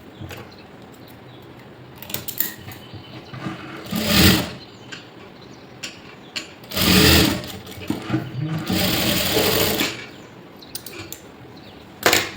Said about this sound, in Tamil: மடித்து இங்கே ஒரு தையல் விட போகிறோம்.